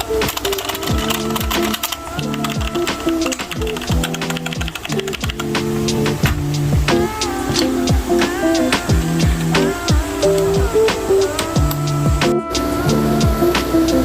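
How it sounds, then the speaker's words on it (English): Ajazz AK33 mechanical keyboard with black clicky switches being typed on, steady rapid keystrokes clacking close up with no talking. "This is the sound of the keys."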